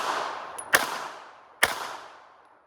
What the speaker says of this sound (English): draw and fire 3 rounds in 6 seconds